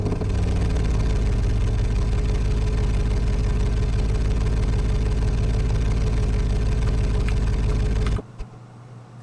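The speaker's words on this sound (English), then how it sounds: "let me load up the Chevy engine. I'll know what to do with that thing, because V8" A simulated Chevy V8 engine runs on a dyno in an engine simulator game, giving a steady, dense, loud drone with a low throbbing pulse that cuts off abruptly near the end.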